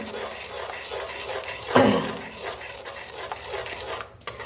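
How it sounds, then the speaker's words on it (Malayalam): A spoon stirs salted ginger curry in a pot, a soft scraping swish with one sharper clatter partway through over low background noise. "നന്നായിട്ട് ഇളക്കി കൊടുക്കാം"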